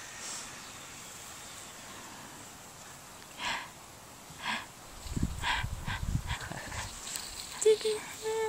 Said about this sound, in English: Such a nice dog, eh?